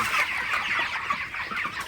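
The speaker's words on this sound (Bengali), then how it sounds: "ব্রয়লার মুরগিগুলোকে তাড়াই দিলে আসলে মুরগিগুলা কিন্তু উঠে খাবার খায়" A crowd of broiler chickens in a poultry house clucks continuously up close, a dense, busy chorus of overlapping clucks with no pauses.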